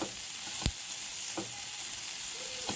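Chopped capsicum fries over a high gas flame, giving a continuous soft sizzle with a couple of sharp clicks from the pan and no voices.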